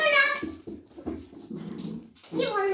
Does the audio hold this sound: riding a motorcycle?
no